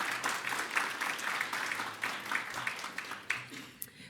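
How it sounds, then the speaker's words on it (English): An audience at a business luncheon on the economy applauds its head table, a steady wash of many hands clapping at moderate distance that holds for about four seconds with a faint voice beneath. "A round of applause for our head table."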